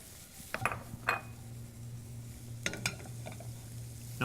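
Sliced garlic is tossed in butter in a pan, giving a soft low sizzle with a few clinks and scrapes of a utensil against the pan, fairly quiet and close.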